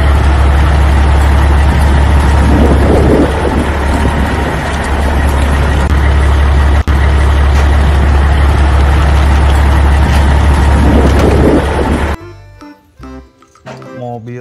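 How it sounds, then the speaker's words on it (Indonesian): A green and white garbage truck engine rumbling loud and steady at close range with a low droning idle, then cutting off abruptly near the end. "Truk sampah berwarna hijau putih"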